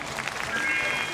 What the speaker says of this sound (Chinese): 好，来拍手拍手